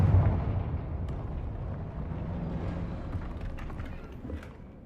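A fire-blast spell in a Harry Potter wizarding video game erupts in a low, rumbling explosion that swells at once and then rolls on as a sustained crackling roar, slowly fading over several seconds.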